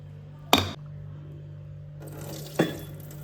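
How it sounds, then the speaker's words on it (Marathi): Water splashes into a pot while homemade buffalo-milk butter is washed for ghee, two short close bursts over a steady low hum. "तर आता ह्या पाणी मी ओतून टाकतलं आणि परत नवीन पाणी घालतलं"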